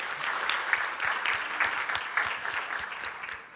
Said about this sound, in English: Could I have another round of applause for Zena?